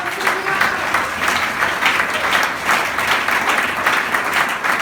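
A church congregation applauding, sustained dense clapping from a crowd filling the room, steady and fairly loud for several seconds.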